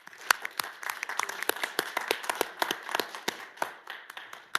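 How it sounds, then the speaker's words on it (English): A modest group claps at a city board of directors meeting in a council chamber, a sparse, close round of individual hand claps with uneven rhythm. "So let's all take this time to give her a round of applause."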